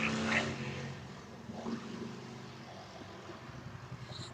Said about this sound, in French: il y a une moto qui vient de passer